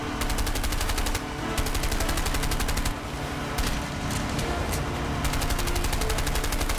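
Rapid automatic gunfire from the video game A Way Out, sustained bursts of loud rattling shots with brief pauses, filling the whole stretch with no talk.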